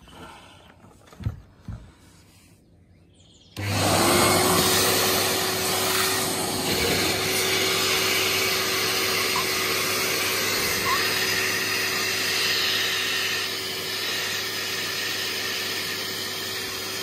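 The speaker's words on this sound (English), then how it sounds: "when I suck with an industrial vacuum cleaner through this hose, the water passes straight through and out here." An industrial vacuum cleaner sucks water through a hose during a Bosch/Siemens dishwasher E-24 error repair. A few light knocks come first, then the motor starts abruptly into a loud, steady roaring whoosh with a constant whine that lasts throughout.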